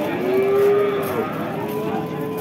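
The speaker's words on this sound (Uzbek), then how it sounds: "Ammo bu sigiri zo'r." A cow at a cattle market in Baliqchi, Andijan region, gives one drawn-out moo up close, heard alone against steady market background noise.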